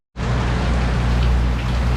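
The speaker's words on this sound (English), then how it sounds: "right as I started to hit record here, started to get some rain" Steady rain falls outdoors at an NHRA Mountain Motor Pro Stock qualifying event in Brainerd, a dense, loud, continuous hiss that begins abruptly after a moment of silence and holds evenly throughout.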